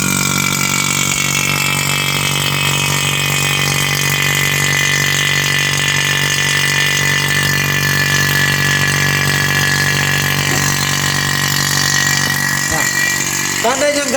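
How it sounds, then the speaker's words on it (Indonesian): A vacuum pump runs during an air-conditioning refrigerant service, giving a steady, continuous motor drone that holds level throughout, close and fairly loud, with a brief shift near the end. "Kita menggunakan pompa vakum. Nah, ini ya, pompa vakum. Kita nyalakan pompa vakum."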